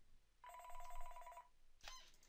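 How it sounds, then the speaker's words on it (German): An office telephone rings once with a bright electronic double-tone burst lasting about a second, fairly clear over a quiet room, followed by a short sharp clatter. "gerade hat das Telefon geläutet"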